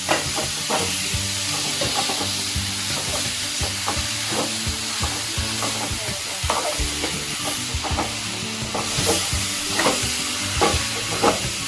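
Moth beans sizzle in a hot pan with masala while a spoon stirs them, giving a close, steady hiss broken by repeated scraping and clinking strokes against the pan, with no voices.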